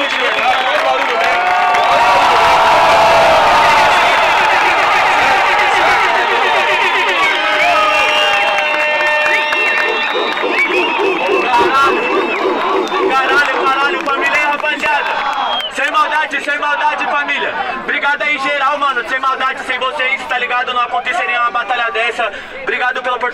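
A rap battle crowd roars, cheers and shouts loudly, with a dense wall of voices peaking early and continuing as a lively hubbub with whoops and yells for over twenty seconds.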